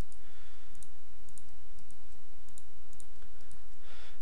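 Rapid mouse clicks during Minecraft wood processing, a steady run of short, evenly spaced taps over a low background hum with no talking.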